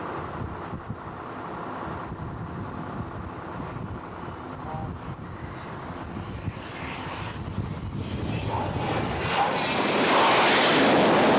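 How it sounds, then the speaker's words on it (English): Jet aircraft engines roaring on the deck of an aircraft carrier as planes take off and land, a steady loud rumble with wind buffeting that swells louder toward the end. "you never actually think you're going to be that close to the planes taking off and landing."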